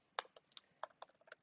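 About eight light, quick keystrokes on a computer keyboard, faint and close, in an uneven typing rhythm with no speech.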